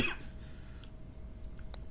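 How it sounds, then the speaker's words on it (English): A single short cough from a patient in the video game Quarantine Zone, faint and quick at the start, followed by quiet background with small clicks and no talk. "Yeah, that's coughing right now."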